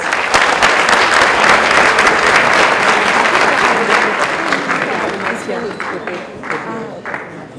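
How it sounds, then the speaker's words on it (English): Audience applause after a visiting university lecture, loud and dense at first, then gradually thinning and tapering off into scattered claps as the room settles. "a round of applause."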